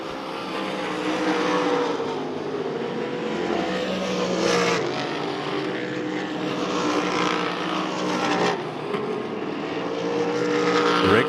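Texas Wing Modified race cars run a feature event at Devil's Bowl Speedway, a continuous loud engine roar with rising and falling pitch as cars pass, several sharp surges sweeping by close.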